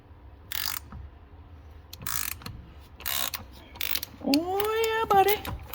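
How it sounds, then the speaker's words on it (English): A Mac Tools ratchet loosens bolts on a 1960s Ford Falcon, clicking in several short, close bursts of rapid pawl ticks, and a cat's meow rises near the end. "should go right to the base of that, bite into her, and as long as whoever put these in didn't torque them like Popeye"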